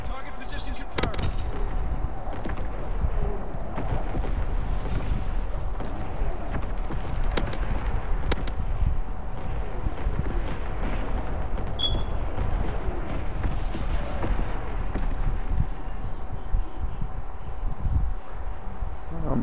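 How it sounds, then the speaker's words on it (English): A division artillery barrage fires in Call of Duty WWII, with rapid repeated booms and gunfire cracks throughout, and dense continuous battle noise under occasional game voice lines and a player talking. "Firing division artillery."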